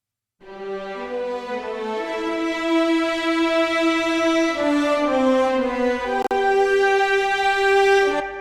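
A six-horn orchestral ensemble patch from a sample library plays sustained, smoothly moving harmony, rich and warm, alone without talk, with a brief click near the end.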